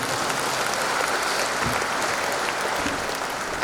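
Dense, steady applause from a large audience at a regional organizational conference, loud and sustained throughout with no gaps.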